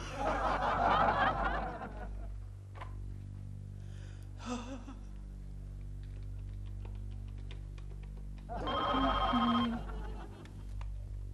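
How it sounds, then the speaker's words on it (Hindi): A telephone rings as a call is placed in a Hindi TV comedy episode: a faint ringback tone with a low hum runs through, and a brighter ring bursts out loudly near the end after a soft laugh at the start. "लेकिन मरने से पहले प्रेमा जी को फोन कर लेता हूं।"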